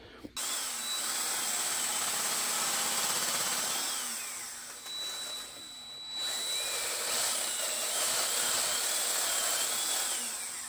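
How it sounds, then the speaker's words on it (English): A power tool cuts a section off an old Lionel 681 turbine model locomotive, a loud steady grinding whine running near-continuously, briefly dipping midway before resuming. "I'm going to cut a section off of this right here"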